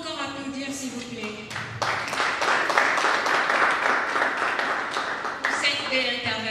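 Audience applause at a conference in Congo, a dense round of clapping rising under someone speaking on a microphone, holding steady for several seconds, then thinning as his voice returns.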